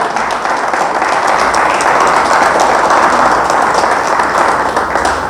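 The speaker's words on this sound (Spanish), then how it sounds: "Dale fuerte el aplauso a Dios." A church congregation bursts into loud, sustained applause, a dense wash of many hands clapping at once that holds steady from start to finish with no voices standing out.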